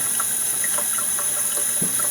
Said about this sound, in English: So let's just go ahead and get the water on those now.